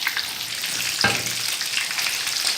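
Fish pops deep frying in hot oil make a steady dense bubbling sizzle, close and even, with one brief louder crackle partway through and no talking.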